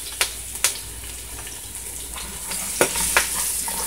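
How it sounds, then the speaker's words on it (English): Garlic goes into a pan of frying corned pork, bringing a continuous close sizzle broken by a few sharp spatters and clacks from stirring. No voices are heard. "We're going to put some garlic in"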